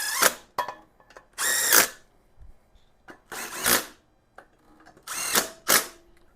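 A power drill whirs in short bursts, driving bolts on a Honda GL1500 Goldwing front wheel and fender assembly, several loud spins separated by pauses and small clicks of handling.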